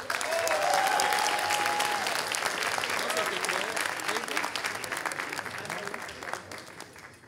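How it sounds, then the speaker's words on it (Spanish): An audience applauds to welcome a performer onto the stage at a comedy show, a loud, dense wash of clapping that starts at full strength and slowly tapers over several seconds, with faint voices mixed in. "Reciban con un fuerte aplauso en este escenario a Jesús Zuckerman."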